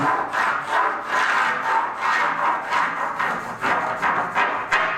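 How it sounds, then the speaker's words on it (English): A bandsaw rips through a walnut butcher block desktop, a loud, steady rasping cut with a gently pulsing rhythm as the wood is fed unevenly, continuous for the whole stretch with no talk. "I'm gonna throw it through this bandsaw in a very unstraight way"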